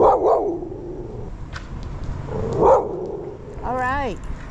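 Virginia, a dog, lets out a couple of sharp barks close by outdoors, with a pause between them, then a rising yelp-like whine at the end; a person's voice is briefly heard.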